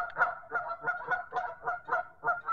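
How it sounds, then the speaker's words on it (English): A mother goose and gander honk repeatedly in a steady rhythm of harsh calls, moderately close, with no talking. "Run off by geese."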